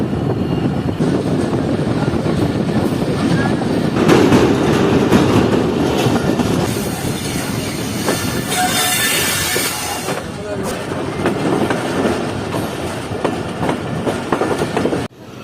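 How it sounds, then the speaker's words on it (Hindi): The Saman Sarkar Express, which runs between Hyderabad and Mirpur Khas, passes close by with a loud steady rumble and rhythmic clattering of wheels on rail joints, sustained throughout with screechy metallic squeals midway. "मेरे सामने से हैदराबाद और मीरपुर खास के दरमियान चलने वाली समन सरकार एक्सप्रेस"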